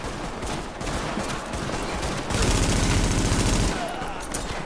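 Sustained automatic gunfire in The Division rattles close and loud, with a heavier, denser burst of shooting in the middle before it eases back to steady fire.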